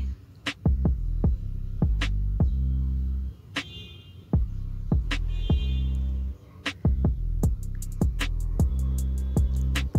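A sewing machine stitches a double-folded hem on a baby's langa blouse in a series of steady rhythmic runs of close, regular needle thumps, broken by short pauses, loud and alone without talk.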